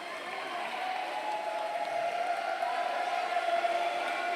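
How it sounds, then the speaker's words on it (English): Italian team supporters in a crowded arena at the EDF Euros 2023 give a sustained round of applause, a continuous wash of clapping and crowd noise that holds steady throughout. "the round of applause by the Italians"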